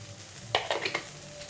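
Coriander, cumin and fennel powders frying in oil for soybean balls give a low background sizzle, broken mid-clip by a short cluster of three or four close stirring scrapes.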